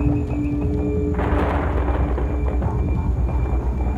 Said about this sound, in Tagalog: Ang misteryosong tunog pala ng kulog na madalas nilang marinig. Boses pala ni Bruce yun